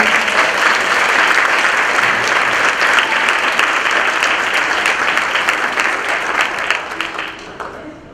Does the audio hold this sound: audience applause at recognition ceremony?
yes